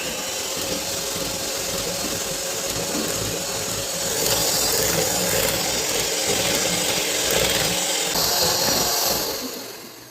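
An electric mixer beats key lime pie filling in a bowl set down in a kitchen sink, a continuous buzzing whir that grows louder midway, then tapers off at the end.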